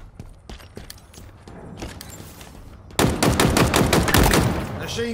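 Rapid machine gun fire in the Halo video game: a quieter string of separate shots gives way to a loud, sustained burst with closely spaced cracks, ending in a metallic ringing tail.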